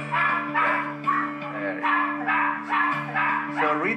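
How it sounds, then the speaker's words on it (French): A dog barks in a quick run of sharp, yippy bursts close to the listener, over a steady low hum. "Elle va aboyer."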